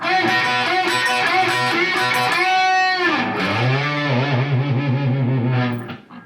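Distorted electric guitar plays a section of a solo, quick picked notes giving way to bent, sliding phrases, loud and up close with no talking.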